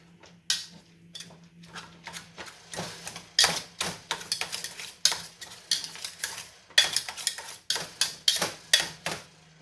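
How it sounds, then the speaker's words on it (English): Cooked zucchini is mashed in a pot or bowl, the utensil giving a run of rhythmic, scraping and clattering strokes against the container at close range, alone without talk. "I'm just going to mash this a bit."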